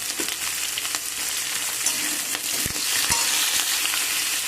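Winter spinach stems, tough and stalky, sizzle steadily in a hot pan, a continuous close frying hiss with a few soft stirring knocks and no voices.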